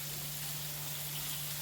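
Raw mango pieces fry briefly in hot oil, giving a steady, close, even sizzle with a faint low hum underneath.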